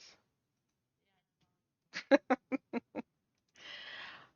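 A burst of six loud, harsh squawking calls from chickens, preceded and followed by brief noisy rasping calls, with quiet stretches between.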